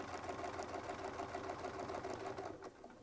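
A sewing machine fitted with a Westalee ruler foot stitches through a quilt sandwich in a steady, fast whir. It runs continuously at close range and eases off near the end.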